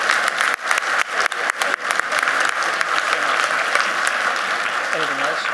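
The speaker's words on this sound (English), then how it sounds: "So listen, round of applause for you guys" Enthusiastic applause from a meeting audience at a city government update, dense clapping with a few sharp bursts at the start, steady and fairly loud, with a voice speaking over the end.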